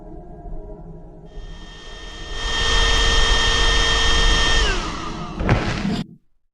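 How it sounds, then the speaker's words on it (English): A vacuum cleaner sound effect winds up into a loud, sustained whine with steady tones, briefly dips and surges, then cuts off abruptly. "It sounds like a vacuum cleaner, which fits the scene."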